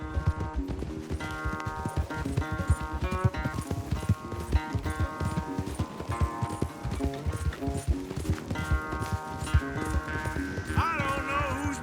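Horse hooves galloping at speed during a race in Red Dead Redemption 2, a steady rapid clip-clop running under loud orchestral game music for the whole stretch.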